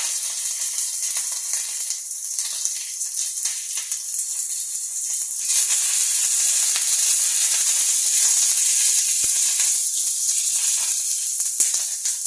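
Curry leaves and broken dried red chilies sizzling in hot oil for an egg kheema, a continuous bright hiss that swells louder midway and holds steady, close and without voices.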